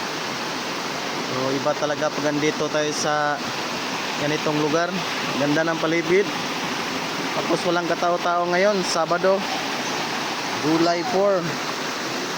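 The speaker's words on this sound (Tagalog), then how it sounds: "Maririnig mo lang is yung tubig at saka yung huni ng mga ibon." A constant rush of flowing water from a cold spring runs underneath as a person talks casually over it in several bursts.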